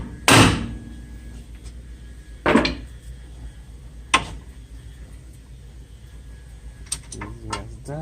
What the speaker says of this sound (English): You want to get a hammer and knock right here.